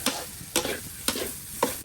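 Rice is stir-fried in a wok for fried chicken rice, a spatula scraping and tossing it in four quick, even strokes about half a second apart over a steady sizzle, close and alone with no talk.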